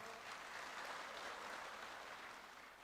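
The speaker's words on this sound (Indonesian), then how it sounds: "Ya, kita aplaus." Steady applause from the audience at a Golkar party congress speech fills the hall, a dense even clatter of many hands held at moderate volume for the full few seconds, with no talking over it.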